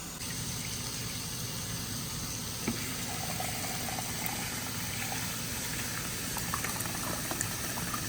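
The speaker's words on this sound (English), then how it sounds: "We're gonna give this a rinse a couple times. One. Just like if you were to rinse your rice before making your rice." Rice-style rinsing of soup ingredients in water in a kitchen, a steady close wash of sloshing, bubbling liquid with faint clinks, continuous for several seconds with no talking.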